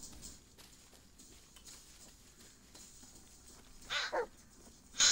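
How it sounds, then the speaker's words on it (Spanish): In the Blair Witch video game, a dog gives a few sharp barks near the end, first a quick pair and then one more, after a stretch of quiet footsteps and faint ambience. "No he empezado ni siquiera la bruja, joder, y ya yo me asusto con el perro."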